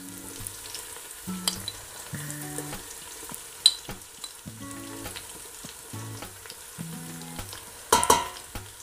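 Onion sizzles in a pan with coriander powder for a Madras-style crab curry, a steady frying hiss broken by several sharp stirring scrapes and one louder clatter, close and with no one talking.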